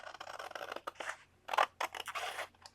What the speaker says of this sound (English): Using the big long scissors